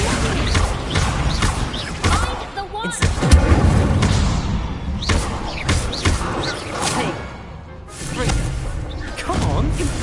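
Loud crashing blasts and thuds of an Incendio fire spell in combat in Hogwarts Legacy on PS5, dense repeated impacts with a brief lull and voices mixed in.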